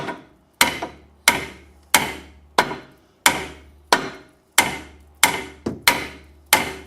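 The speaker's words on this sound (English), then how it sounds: "Now we're going to get the hammer." About a dozen sharp metal hammer blows strike a car's suspension ball joint at a steady pace, each a loud, close clang that decays quickly, with no talking.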